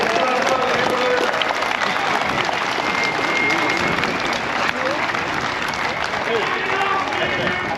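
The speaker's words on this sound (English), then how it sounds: "Let's have a big round of applause." A crowd at car show awards bursts into sustained applause, a thick wash of clapping with a few voices mixed in, loud and continuous throughout.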